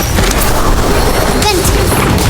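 A loud, booming blast from a fire spell in Harry Potter: Magic Awakened fills the moment, a dense, saturated roar with a brief crackling burst partway through, with a voice mixed in.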